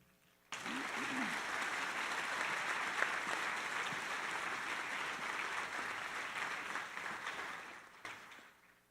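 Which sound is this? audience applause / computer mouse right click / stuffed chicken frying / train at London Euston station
audience applause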